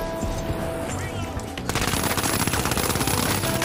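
Rapid automatic gunfire in the shooter game The Finals, heard as a loud, dense stream of shots that kicks in partway through and keeps firing steadily over game noise, close up.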